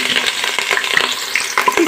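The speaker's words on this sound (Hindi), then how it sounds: "इसमें हमने 3 अदद स्लाइस कटे हुए प्याज डाल देने।" Sliced onions sizzle and crackle in hot ghee, a steady close frying hiss with occasional stirring scrapes and pops throughout.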